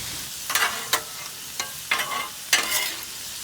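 Seasoned shrimp fry with butter and garlic on a Blackstone griddle, a light sizzle broken by five or six short scraping and stirring strokes of a spatula, close and moderately loud, no voices.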